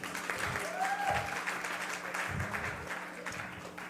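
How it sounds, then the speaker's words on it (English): An audience of women in big hats claps at a speaking event, a dense, lively round of applause with a few stronger hand slaps standing out, sustained at a moderate level throughout. "You can clap for yourself."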